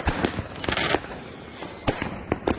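Fireworks exploding over Medical Lake during the city's professional Fourth of July show: a rapid run of sharp, loud bangs and crackles, with a whistling rocket rising between the first bursts.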